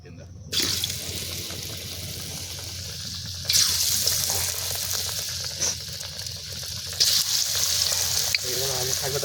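Potato chip pakoras fry in white oil, giving a steady crackling sizzle throughout, with a clatter of stirring or utensil contact near the start and scattered bumps later.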